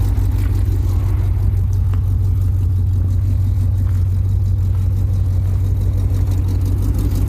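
A 1969 Ford running at idle right after a cold start, close and loud, with a steady low rumbling drone that holds unchanged throughout and no talk.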